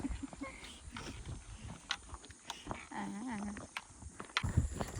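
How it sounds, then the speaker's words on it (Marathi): Dogs bark as they chase someone leaving a campsite on a motorbike, the barks coming in scattered bursts amid wind and outdoor noise. "आता कुत्री मागे लागले."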